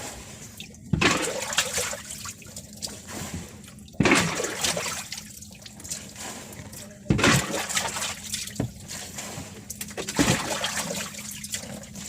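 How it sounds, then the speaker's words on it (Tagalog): Rain falling with running water pouring and trickling outdoors at a fishing spot, a steady wet wash with repeated louder surges of flow, fairly close. "umuulan kasi ito"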